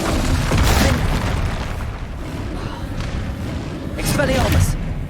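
Incendio fire spell cast in Hogwarts Legacy on PS5, heavy booming bursts near the start and again near the end with a rushing roar between, loud and close, under a person speaking.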